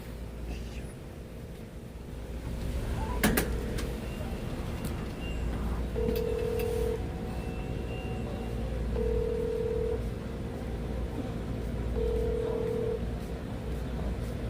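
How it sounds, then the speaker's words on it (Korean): A phone call goes out, with a brief burst of dialing tones followed by a ringback tone that pulses at regular intervals three times, faint under a low background hum. "저 선율 씨한테 전화할까요"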